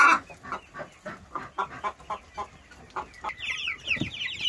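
Chickens cluck repeatedly nearby inside a coop during rain, in an irregular stream of short calls, with a few higher squawks toward the end.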